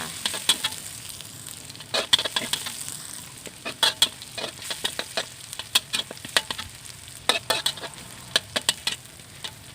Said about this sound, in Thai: ผัดไปเรื่อย ๆ สีสันเริ่มมาแล้วค่ะ